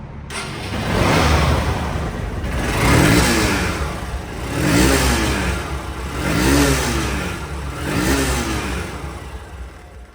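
A Honda SP Shine motorcycle engine in showroom condition revs up and settles again in five or six steady surges, loud and close, with no voices.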